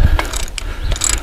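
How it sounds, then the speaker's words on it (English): Head bolts breaking loose on an Allis Chalmers C tractor with a ratchet wrench, making a rapid, close, loud run of clicking and creaking metal for just over a second. "breaking the head bolts loose that way"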